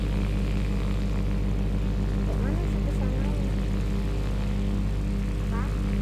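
Airplane in the video game Wobbly Life, a steady loud propeller drone with constant engine rumble throughout, while people talk briefly over it.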